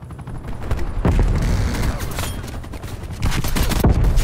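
Pistol fire from a 1911 handgun in the shooter game Black Ops Cold War, with sharp shots in quick bursts over loud, dense in-game action and background clutter, no talk.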